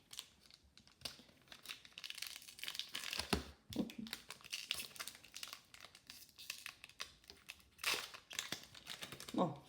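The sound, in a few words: tearing open a hockey trading card pack by hand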